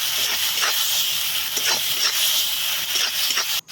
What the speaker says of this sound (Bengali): এরপর ভালোভাবে একটু কষিয়ে নেব।